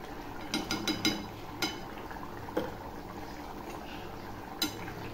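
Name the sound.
ghee added to simmering rajma (kidney bean curry)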